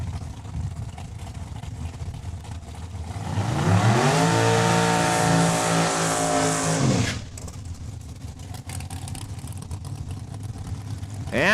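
A drag race car warms its tires at a Saskatchewan drag strip, its engine roaring loud and close in a sustained burst that climbs in pitch, then cuts off sharply, leaving quieter ambient track noise.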